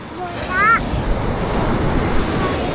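Sea waves wash onto the shore in a steady, broad rumble, with a voice chirping briefly over the surf near the start.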